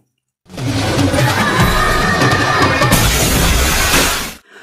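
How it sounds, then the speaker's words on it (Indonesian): A school bus plunging into a river in an Indian action film: a loud, sustained crash of shattering and splashing water that runs for about four seconds, then cuts off abruptly. "Vijay mendapati bus yang dinaiki Nivi terjatuh ke dalam sungai."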